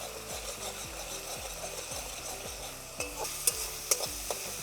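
Onion paste frying over a very slow flame, with a low sizzle under regular scraping strokes of a spatula against the pan and a few light metallic taps near the end, close up and without talk.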